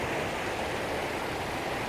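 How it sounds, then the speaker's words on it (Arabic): A small waterfall in the Atlas mountains near a lake, heard as a steady, even hiss of falling and rushing water, close and unbroken throughout. "كاين واحد الشليليل ها هو"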